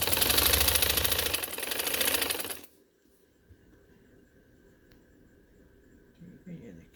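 A sewing machine stitching ladies' trousers runs as a steady, loud mechanical whir for under three seconds, then stops, leaving quiet room tone with faint rustling.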